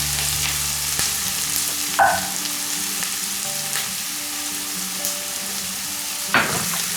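Carrots stir-fry in a hot pan for Manchurian chicken, a loud, steady sizzle running throughout with a few soft clacks of a utensil stirring the vegetables.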